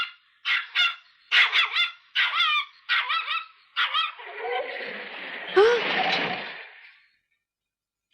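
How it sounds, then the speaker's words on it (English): Belle, a dog in an animated series, gives a rapid run of about seven sharp barks, followed by a few seconds of rustling, noisy movement. "She's a very smart dog."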